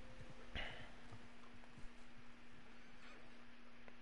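A horse in the video game Red Dead Online gives a short, faint whinny early on, with soft hoof clip-clops scattered through the otherwise quiet ambience.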